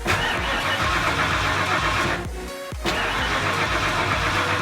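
Nearby car engine cranking with a rhythmic chugging starter, a brief pause midway, then cranking resumes, loud and continuous throughout.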